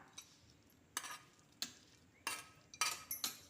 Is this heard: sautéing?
yes